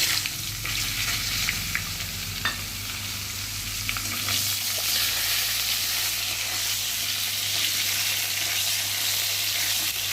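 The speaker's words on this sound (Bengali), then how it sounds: "আর এখন এই যে কেটে রাখা বেগুনগুলোকে ভেজে নেব।" Steady, loud sizzling of eggplant pieces frying in hot oil, continuous throughout with a few light clinks early on.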